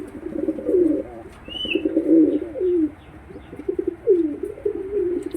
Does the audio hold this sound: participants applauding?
no